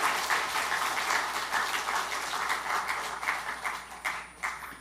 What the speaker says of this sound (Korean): 우리 박수 쳐드리세요.